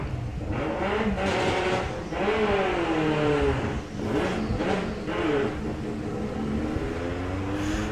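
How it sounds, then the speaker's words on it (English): A Volkswagen drag racing car at Santa Pod qualifying revs hard and accelerates down the strip, the engine note rising through gear changes, loud and close before fading slightly into the distance. "That is a 140-mile-an-hour car, that one, would you believe?"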